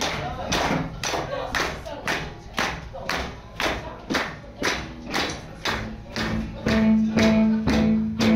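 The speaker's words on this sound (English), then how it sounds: "Clap your hands, stamp your feet." A concert crowd at a live show in a London club claps hands and stamps feet in a steady, regular beat. The loud rhythmic thumps continue throughout, with voices and a sung note joining near the end.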